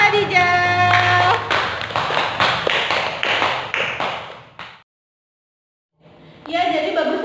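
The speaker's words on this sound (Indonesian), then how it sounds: "beri tepuk tangan untuk kelompok Khadijah" A school class claps for a student group in an Islamic studies lesson, producing a burst of brisk, close hand clapping that fades and stops, with talking before and after.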